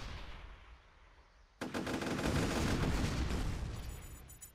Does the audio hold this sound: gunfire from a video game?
yes